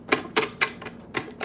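Tarot cards being shuffled for a zodiac reading, heard as six crisp, fluttering riffles in quick uneven succession, close and fairly loud with no talk.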